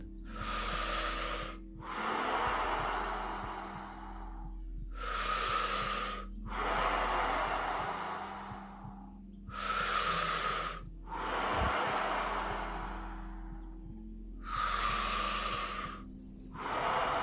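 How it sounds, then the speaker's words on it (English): Slow, deep in-breaths during a guided relaxation, hand on belly and chest, come in four long airy swells separated by pauses, close and clear with a faint low hum beneath. "Breathing in."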